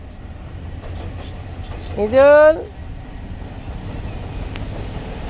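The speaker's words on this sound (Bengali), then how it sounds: "এই যে ট্রেন যাইতেছে, এই ট্রেন আসতেছে," A train passing by with a steady rumble and wind noise. A loud, brief wavering horn-like tone rises in the middle, and a voice speaks briefly.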